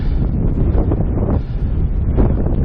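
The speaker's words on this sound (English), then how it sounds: "A lot windier up here." Strong wind roars across the microphone high on a mountain pass near the Maroon Bells in Colorado, a steady close rumble with faint rustling and no voices.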